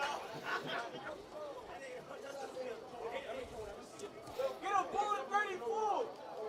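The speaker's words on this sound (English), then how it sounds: "Got the crowd going, too, down below us. You can hear them hooting and hollering right now" Spectators at a high school football game between St. Francis Prep and Christ the King raise a steady babble of chatter and shouts, with cheering swelling toward the end, heard from a distance below the booth.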